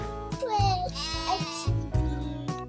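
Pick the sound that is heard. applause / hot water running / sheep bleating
sheep bleating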